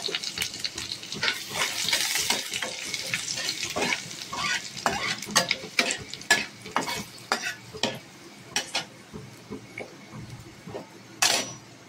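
Garlic fries in hot oil with curry leaves while being stirred in a pan, giving a soft continuous sizzle broken by a run of sharp scraping and clicking strokes that grow more spaced and distinct toward the end.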